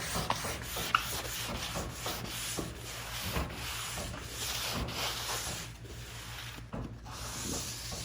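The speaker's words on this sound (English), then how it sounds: "So let's sand it." Old paint on wood trim being sanded by hand, a steady back-and-forth rasping scrape in repeated strokes, close and moderately loud with no talking.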